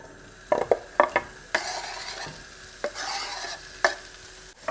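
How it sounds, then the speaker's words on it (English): Chopped spring onions hit about a tablespoon of hot oil, giving a steady close sizzle broken by several sharp clanks and scrapes of a utensil stirring the pan; no voices. "in goes the onions"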